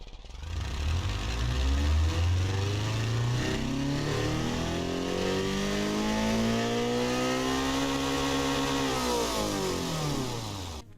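A JDM sports car engine in the BeamNG driving game revs up and holds high through a long climb. It is loud and steady, with rising and falling harmonic tones and no talk.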